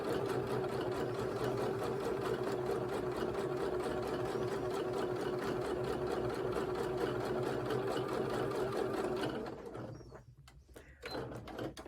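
A sewing machine stitches a scrappy sampler quilt block in a fast, steady whirring run that stops near the end, followed by a few brief handling sounds.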